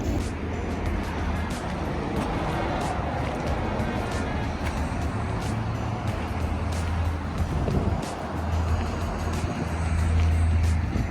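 Mercedes-Benz W124 sedan on the road, a steady broadband engine and road rumble with some wind noise filling the whole stretch, continuous and fairly loud without clear gear changes.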